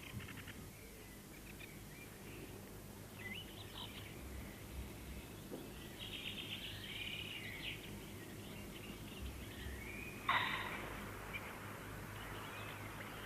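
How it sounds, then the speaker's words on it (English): Faint birdsong and chirping along a river, scattered over a soft outdoor hiss, with one brief louder call near the end; no voices. "All along the river, you can hear the song and the chatter of the birds"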